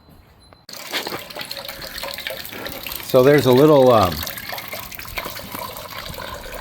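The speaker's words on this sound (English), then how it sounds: "So now we're going to start draining coolant" Coolant drains from a 2023 Norden 901 motorcycle during a leak repair, a steady close trickle and splash of liquid running throughout while someone talks over it.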